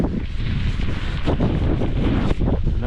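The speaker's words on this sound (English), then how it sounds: "So not only is it misting, it's very windy." Strong wind buffets the microphone outdoors along a rail line near telegraph poles, blowing mist in a steady roaring rush with gusty swells and no talk.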